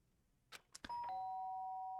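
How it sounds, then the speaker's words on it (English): A two-tone electronic doorbell chime in the video game Danganronpa rings out clearly after a few soft taps, its final tone sustaining and ringing on steadily. "Sharp sound of the doorbell pierced my sleepy haze and pulled me back to the real world."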